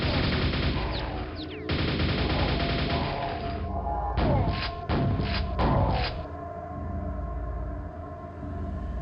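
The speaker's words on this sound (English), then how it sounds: "we're gonna shoot that guy in the foot" Gunfire from weapons in the PC shooter Quake, played through vkQuake: loud, dense, sustained bursts of shots with a few short gaps and clustered blasts in the middle, no talking.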